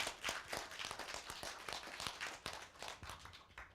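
A small audience at a lecture on classical Chinese characters claps in scattered, uneven bursts, quiet and close, with individual hand strikes distinct rather than merging into a roar.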